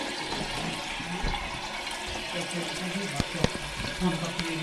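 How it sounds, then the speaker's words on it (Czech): Water beginning to flow through a drain pipe, a continuous rushing, gurgling trickle heard at moderate distance, with a few knocks and clunks near the end. "Už nám tam teče voda, slyšíte to?"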